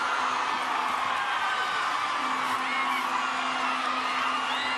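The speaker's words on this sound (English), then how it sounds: "And look at the Nasinu crowd. They love that play." A school rugby crowd cheering at an under-18 secondary schools semifinal, a loud continuous roar of whoops, yells and shouting from many voices, sustained throughout.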